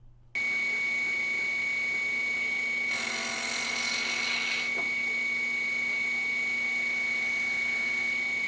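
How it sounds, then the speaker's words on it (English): A CNC lathe run by hand to face off the end of a metal clock part: a steady machine hum with a brighter, rougher cutting sound that lasts about two seconds partway through, then eases back to the hum. "The first thing I have to do is face off the part,"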